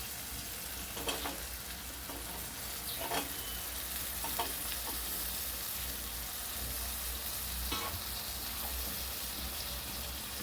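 Okra pieces fry with tomato and onion in a pan for a curry, giving a steady, even sizzle throughout, broken by a few soft stirring scrapes and clinks.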